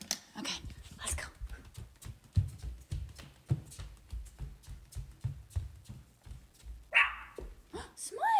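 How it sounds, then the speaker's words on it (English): A small dog barks and yips close by, mixed with someone talking throughout, the short sharp barks breaking through the speech in a busy indoor setting. "She barked at me."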